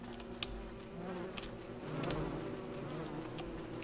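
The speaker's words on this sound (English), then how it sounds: "Some killer bees still milling around" Killer bees in the video game Don't Starve: Reign of Giants give off a steady low insect buzz in the background, mixed with other game ambience and a few brief clicks.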